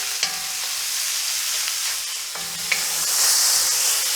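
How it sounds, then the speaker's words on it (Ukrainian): Chopped meat sizzles and fries with golden onions in a pan, a steady close hiss broken by a few light stirring scrapes and clinks, with no talking. "Цибулька зазолотилася, додаю м'ясо. І теж гарненько обсмажу."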